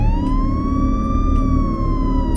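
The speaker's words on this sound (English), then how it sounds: "followed by the police siren that went off" A police car siren wails continuously at close range, a steady sustained tone that swells slightly in pitch over a low rumbling background.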